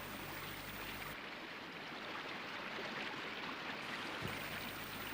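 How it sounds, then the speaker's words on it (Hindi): Steady broadband rushing of the holy Ganga river flowing, a continuous wash of water sound heard alone with no voices, holding even loudness throughout. "राम, ये पवित्र गंगा नदी तुम्हारे पूर्वजों की देन है।"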